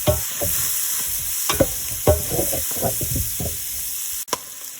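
Cumin gets stirred into a pot of chili, a close spoon scraping and knocking in uneven strokes over a gentle simmering sizzle, ending with a sharp clack.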